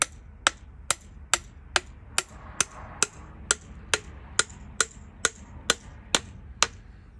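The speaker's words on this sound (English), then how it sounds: "Then I just use my hammer, lightly tap to align the holes, and you bolt it in." A hammer lightly taps a new universal joint into its cap on a Kenworth truck driveline, about fifteen sharp, evenly spaced metallic taps roughly every half second, close and clear over a quiet background.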